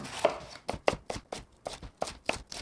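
A knife chops capsicum on a cutting board, giving about a dozen crisp, close thuds in a quick, slightly uneven rhythm.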